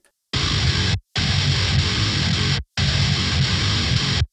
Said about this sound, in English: I've cut out any silence and it sounds like this.